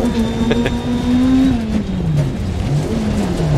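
A rally car engine in the video game Dirt Rally 2.0 drones and revs steadily, its pitch rising and dipping with gear changes, loud and close with no voices.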